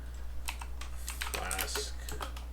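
A computer keyboard clatters in quick, uneven bursts of keystrokes while someone installs Python packages at a desk, close and clear over a steady low electrical hum.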